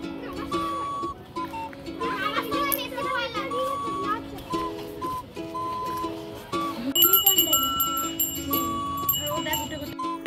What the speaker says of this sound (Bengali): সঙ্গে আবার ঘন্টাও বাজাচ্ছে।